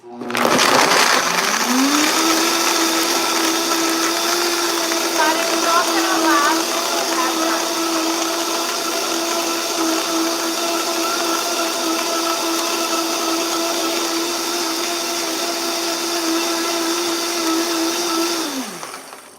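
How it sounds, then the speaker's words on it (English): A blender whirs loudly and steadily for nearly twenty seconds, spinning up at the start and winding down at the end, with a brief spoken remark over it. "All right, got my blender. It's gonna be loud, plug your ears."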